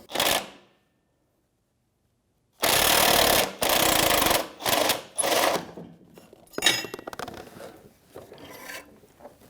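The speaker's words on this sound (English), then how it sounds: "This is a 15mm wrench and socket for me, so I'm going to put my wrench on the bottom here." A 15mm wrench and socket work an exhaust manifold bolt on a 1997-2006 Jeep Wrangler 2.4L four-cylinder, giving loud close bursts of ratcheting and grinding metal, separated by a long silent pause and then shorter clicks and scrapes.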